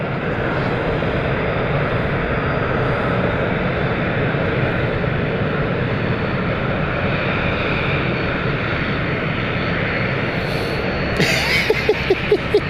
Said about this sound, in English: they're taxiing quite fast down the runway